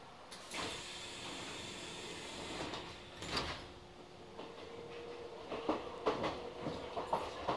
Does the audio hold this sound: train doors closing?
yes